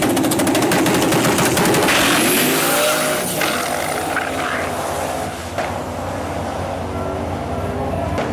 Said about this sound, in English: He did not lift his foot off that accelerator. The car went side to side.